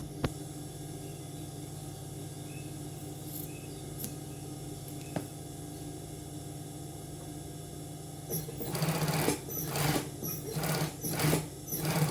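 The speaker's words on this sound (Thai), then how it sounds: "วางธรรมดาแล้วก็เย็บแบบนี้ไปรอบ" A sewing machine stitches binding around a garment neckline, humming quietly and steadily at first, then running in several louder bursts of rapid stitching near the end.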